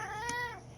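A single short meow from a pet cat, close and fairly faint, rising and then trailing off over a quiet background.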